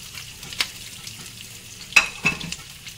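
Potatoes and carrots hit a hot frying pan for caldereta, giving a soft steady sizzle punctuated by a few sharp clatters and taps as the pieces drop in.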